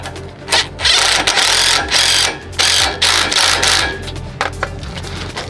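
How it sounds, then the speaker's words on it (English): An impact wrench tightens bolts on a Lexus GX470 wheel hub in several loud rattling bursts of about half a second to a second each, separated by short pauses, close up with no talking. "Tighten this back up with your impact."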